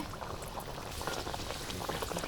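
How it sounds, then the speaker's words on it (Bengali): Green pea kachoris deep-fry in hot oil in a wok, producing a dense, steady bubbling hiss that stays close and even throughout, with no talk. "এবার আমরা কচুরিগুলো ভাজা শুরু করে দেবো তেল গরম হয়ে গেছে"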